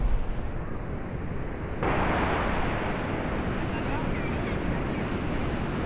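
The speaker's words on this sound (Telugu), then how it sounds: "ఫుల్ వేవ్స్ ఉన్నాయి ఇక్కడ." Ocean waves washing onto a beach at Vizag, a steady broad roar of surf with wind buffeting the microphone, continuous and fairly close, with no talk.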